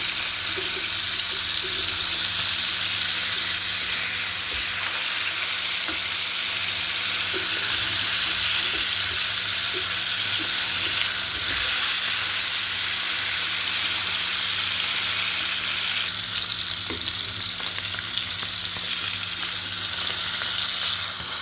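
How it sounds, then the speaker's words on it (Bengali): Steady oil sizzle of koi fish (climbing perch) being half-fried in a pan, continuous and fairly loud, with faint occasional clinks and no talking. "মাছগুলো একটু এভাবে হাফ ভাজা দিলাম।"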